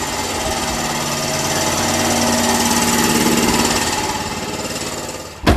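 A loud air compressor motor runs steadily in a scooter workshop, a close, rattling mechanical hum that swells slightly and then stops abruptly with a thump near the end.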